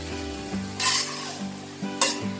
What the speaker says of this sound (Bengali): এটাকে একটু নেড়ে চেড়ে ঢেকে দিয়ে রেখে দিব